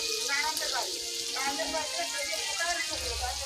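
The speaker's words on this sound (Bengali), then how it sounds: "তেল দিয়ে তার মধ্যে বিনস গাজর কুমড়ো না হ্যাঁ, কুমড়ো এগুলো সব ভেজে নেওয়া হচ্ছে" Beans, carrot and pumpkin fry in oil at a picnic, a steady close broadband sizzle running throughout beneath a person talking.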